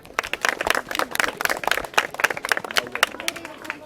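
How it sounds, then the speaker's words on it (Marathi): Uneven, rhythmic hand clapping from a small group at an outdoor quiz event, distinct individual claps close by, with a voice speaking over them. "टाळ्या"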